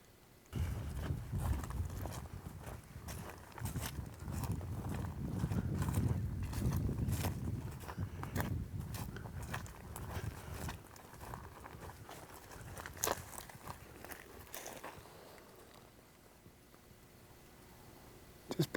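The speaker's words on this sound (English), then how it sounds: "Just bloody cows, they're onto us already." Hooves of cattle thud and clop steadily over rough ground as several walk nearby in the Australian outback, with gusting wind noise throughout.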